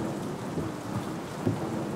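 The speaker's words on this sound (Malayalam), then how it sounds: "നല്ല മഴയാ" Heavy rain pours down in a loud, continuous roar, with a low rumbling undertone and no one speaking.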